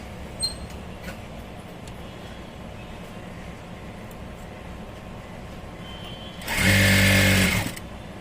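An electric sewing machine stitching a folded sleeve hem on a nightie alteration, a loud steady whirring burst of about a second near the end, after quiet room tone with a few faint clicks.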